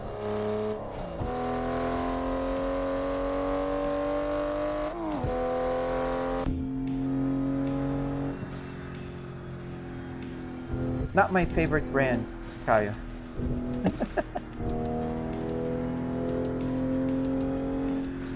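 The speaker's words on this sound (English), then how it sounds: "This Toyota, yes, Supra, the Toyota Supra" A Toyota Supra MK5 engine in a racing sim hums and revs through long held tones that shift pitch, with bursts of quicker revving in the middle, heard beneath someone talking.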